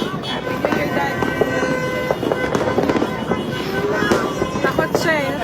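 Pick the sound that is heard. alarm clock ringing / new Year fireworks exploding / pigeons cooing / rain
new Year fireworks exploding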